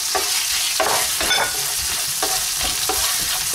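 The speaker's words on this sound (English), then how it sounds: "Mag-gisa na tayo ng ating garlic" Garlic sautéing in melted margarine, a steady soft sizzle with intermittent scraping stir strokes, close and fairly loud, no talking.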